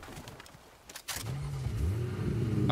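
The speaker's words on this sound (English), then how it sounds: "I hear a car." A car in the game Fortnite starts up and drives nearby, the engine revving and rising in pitch and loudness after a brief clatter.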